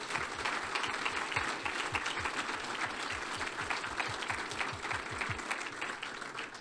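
Sustained applause from a crowd at a military retirement ceremony, honoring EOD warrior fighters, a dense steady wash of many hands clapping, with low thumps throughout and no break.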